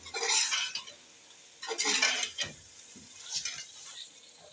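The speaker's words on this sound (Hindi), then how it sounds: "अब हम 3 से 4 मिनट अच्छे से कर लेते हैं हाई फ्लेम पे इसकी भुनाई।" Cumin powder and ground garam masala roasting over a high flame for an egg and onion curry, with bursts of scraping stirring and sizzle that come and go in three waves, close and without talk.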